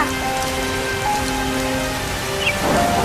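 Steady rain pours down in a cartoon, a loud, continuous patter with faint background music tones and no voices.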